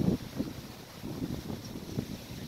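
Wind gusting outdoors in the morning after Hurricane Helene, a steady low rumble with buffeting bursts against the microphone, moderately loud and continuous with no talk.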